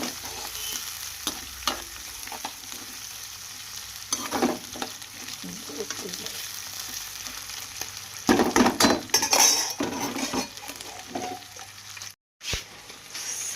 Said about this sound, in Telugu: ఆయిల్లో బాగా ఫ్రై అవ్వాలి.